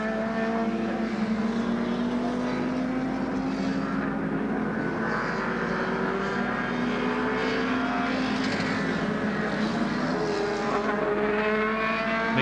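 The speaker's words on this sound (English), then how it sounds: "it's up to Geoghan now in the Mustang to see with 5 laps remaining if he can get close to McKeown and overtake him" Several 1969 production touring cars, including a Ford Mustang, race at Warwick Farm Raceway, their loud engines droning continuously with shifting pitch as the cars hold close battle over the full stretch, with no talk.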